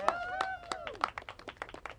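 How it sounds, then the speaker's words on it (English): Scattered hand claps from an audience at a gathering of religious leaders and Democratic senators, fairly faint and uneven, with a voice speaking over the first half before the clapping thins into separate claps. "big round of applause"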